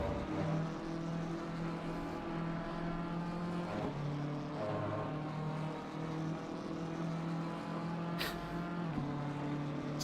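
Race car engine in a GT3 racing video game at Spa, a steady droning engine note that holds through the whole stretch with slight pitch changes, loud and continuous with no talk.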